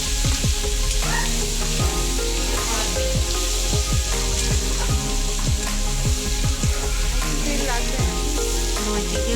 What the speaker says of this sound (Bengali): পেঁয়াজগুলোকে ব্রাউন কালার করে ভেজে নেবে